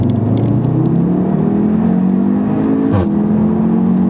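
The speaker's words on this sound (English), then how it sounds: "So it accelerates very, very quickly." A 2015 MK3 Audi TT S in manual mode accelerates hard, its loud engine note climbing steadily in pitch, then briefly dropping at a gear change before rising again.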